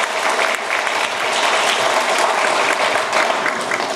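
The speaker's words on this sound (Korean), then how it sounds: "여러분 문재인 대통령 박수 한번 쳐야지 힘내라" An audience at a lecture on legal and investigative reform claps for President Moon Jae-in, a steady, even burst of many hands from start to finish with no pause.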